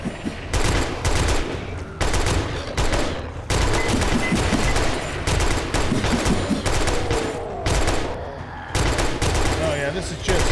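An H&K gun fires in long automatic bursts in the 7 Days to Die video game, loud rapid fusillades broken by short pauses, with game noise behind.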